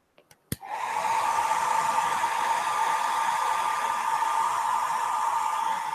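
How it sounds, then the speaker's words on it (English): A hair dryer switches on after a couple of clicks and blows steadily with a constant whooshing hum, close by and continuous. "let's put the hairdryer on"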